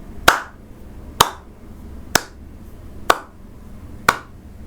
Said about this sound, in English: Slow clap, slow clap.